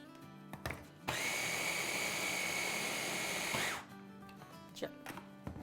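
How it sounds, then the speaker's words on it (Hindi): An electric grinder whirs loudly and steadily for about three seconds, blending chicken nugget mixture in a home kitchen, with quieter clatter before and after. "तो चले आप इसको ग्राइंड करते हैं।"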